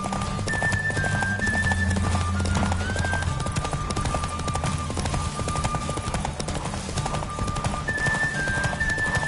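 Rapid rhythmic hoofbeats of a galloping horse in The Witcher 3 on PS5, steady and close, with a sustained tonal music line and occasional whinnies over the top.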